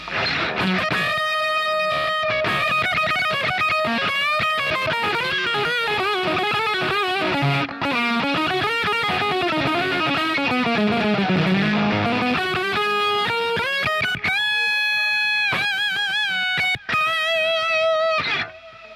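Electric guitar through a fuzz pedal into a Plexi amp, playing fuzzy sustained notes and bends, thick and saturated, loud and close, ending with a few ringing chords.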